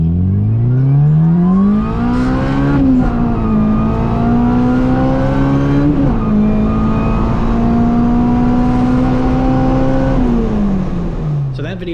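A turbocharged car engine revs hard on a dyno during a data log run, making only 1 PSI of boost; a loud, sustained engine drone climbs and holds through repeated pulls, with a brief dip partway and tapering off at the end.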